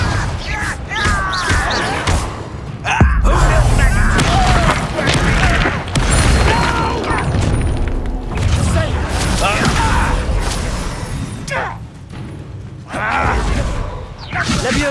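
Confringo fire spells explode in Hogwarts Legacy combat, loud booming blasts and crashes layered over dense battle noise, with shouted voices and spell calls throughout.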